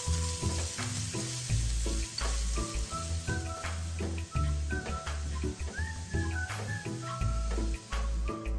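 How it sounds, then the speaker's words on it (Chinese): Minced ginger and garlic fry in hot oil over medium heat, crackling and sizzling steadily up close, with rhythmic stirring taps throughout. "将剁碎后的蒜末倒入一起爆香，一直油爆至蒜末微微金黄。"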